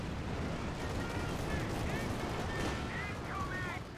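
Mortar shells landing along a defensive line in the WWII strategy game Company of Heroes 2, a steady dense rumble of explosions and battle noise with a few scattered higher squeals over continuous background din.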